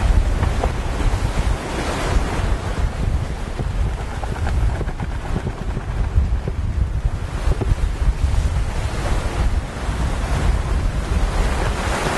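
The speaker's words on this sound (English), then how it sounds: "Sea's building up." Rough, building sea in strong wind around a sailing boat, waves surging and crashing continuously under loud, blustery wind noise on the microphone, close and unbroken, no talking.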